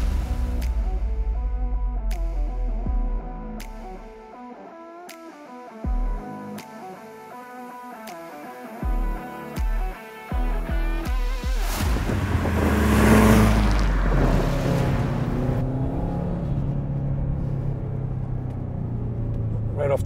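A 2004 Subaru WRX STI engine rumbles steadily from inside the car while driving, building to a louder surge of acceleration midway before settling back, with a few clicks and bumps in the cabin.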